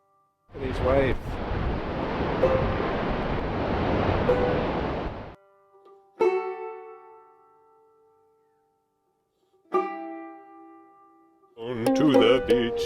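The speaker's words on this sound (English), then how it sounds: "Look at these waves." Ocean waves roll onto a beach on the coast of Spain or Portugal, a loud rushing surge for several seconds, then quieter gaps broken by brief tonal sounds and a final burst of noise.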